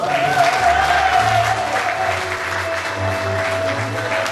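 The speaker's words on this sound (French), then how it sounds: "Applaudissez pour la pauvre de" A crowd at a church anniversary celebration applauds for several seconds, a dense, fairly loud, even patter of many hands that eases slightly toward the end.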